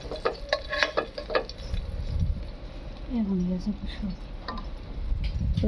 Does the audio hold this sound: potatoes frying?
yes